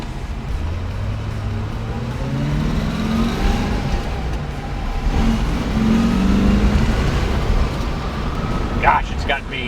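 A 1963 Chevrolet Corvette convertible's engine revs and pulls away from a light in a rising, rumbling run, loud and close from inside the car, with someone talking over it.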